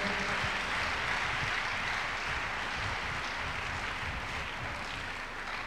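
Church congregation at a Tuesday miracle service breaking into dense, sustained applause that fills the room evenly from start to finish, many hands clapping at once with no voices rising above it.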